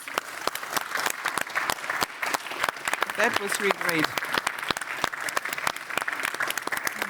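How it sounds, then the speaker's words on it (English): A conference audience claps steadily throughout, a dense spread of many hands, while someone speaks briefly over the applause in the middle. "ladies and gentlemen, big hand of applause"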